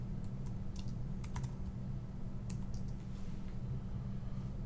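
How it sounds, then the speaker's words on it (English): Light, quick keystrokes tap on a computer keyboard in scattered clusters, faint over a steady low hum. "So I'll just type in his name."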